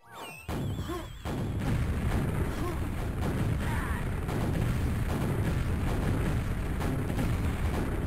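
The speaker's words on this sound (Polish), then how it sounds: "Tu pójdzie jeszcze jedna rakieta." Quake deathmatch duel on the DM2 map: repeated rocket launcher shots and booming explosions, loud and dense, following a brief sharp burst at the start, with a commentator speaking under the action.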